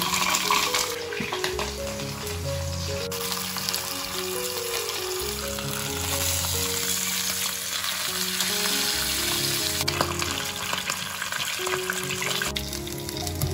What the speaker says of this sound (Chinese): 接着把黄花鱼放进来，煎到2面金黄。